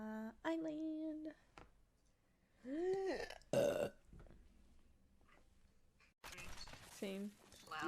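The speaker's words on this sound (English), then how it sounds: "burp." Loud, close burps come in several separate bursts, some long and tonal, with short pauses between them and people talking in the gaps.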